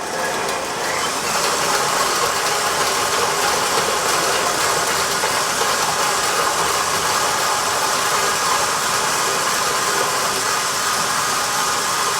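A gas torch roars steadily close up while heating a metal bowl of chocolate buttercream to soften the butter, a broad continuous hiss and rumble with no talking.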